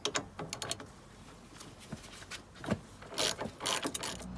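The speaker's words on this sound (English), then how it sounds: "Undo the anti-roll bar drop link with a 17mm." A ratchet with a 17mm socket works on a car's anti-roll bar drop link during an ST170 restoration, producing bursts of quick close mechanical clicks with pauses between, fairly quiet.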